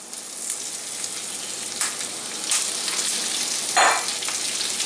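Baby spinach sizzles steadily in a hot pan while salmon stuffing cooks, with a constant frying hiss and a few louder crackling bursts as leaves drop in; no voices.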